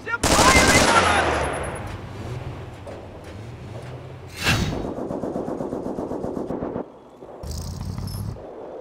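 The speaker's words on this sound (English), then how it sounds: "They're firing on us!" Automatic gunfire in the World War II strategy game Company of Heroes, Europe at War mod, with machine-gun bursts rattling near and loud at the start, then steady distant firing, a sharp blast midway, and game voice lines over it.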